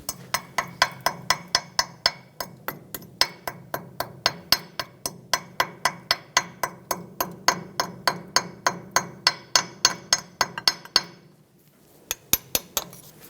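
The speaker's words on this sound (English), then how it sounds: "Just use a chisel and a hammer, just tap it off of here." A hammer drives a chisel against the rusty wheel hub of a 2008-2010 Ford F-450 Super Duty, giving a rapid, steady run of sharp metallic taps, close and loud, that stops briefly before a few final strikes, with no talking.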